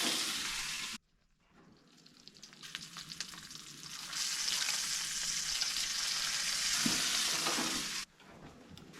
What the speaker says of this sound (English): got the rest of our bacon in, getting some really good juices so far.